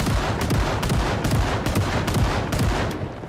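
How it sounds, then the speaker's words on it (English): Rapid, loud shotgun blasts into a zombie horde in a video game, about seven sharp booming reports in quick regular succession with no speech. "We've gotten so good at reloading the shotgun and just dumping 7 rounds into the zombie horde"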